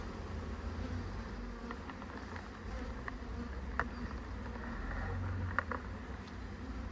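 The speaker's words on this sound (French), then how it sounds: "Et on va pouvoir libérer la reine ou ces petites abeilles." Many honeybees buzz steadily in a dense, continuous drone around a newly released queen during a hive split, with a few faint clicks and taps, and no one speaking.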